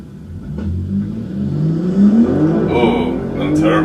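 A BMW M4 G82 with a turbocharged engine revs and pulls hard on a night drive, a rising engine drone heard from inside the car with turbo whoosh near the end and a voice talking over it.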